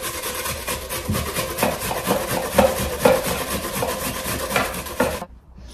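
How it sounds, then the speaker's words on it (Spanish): Medium white onion being grated by hand, a close rhythmic rasping scrape repeating in quick strokes before stopping abruptly near the end. "Les rayo lo que es una cebolla, mira, blanca, mediana."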